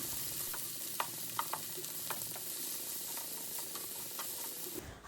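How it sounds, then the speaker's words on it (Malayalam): Sliced onion sizzles in hot oil with ginger-garlic paste and salt, with occasional scrapes of a stirring spoon against the pan, a steady close frying hiss that drops away at the very end. "എന്നിട്ട് ഒരു സവാള കട്ട് ചെയ്തത് ചേർത്തിട്ട് ഒന്ന് വഴറ്റിയെടുക്കാം"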